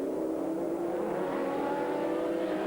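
A Saleen race car roars by during a 2001 American Le Mans Series race, its engine a loud, continuous high-revving drone heard steadily throughout.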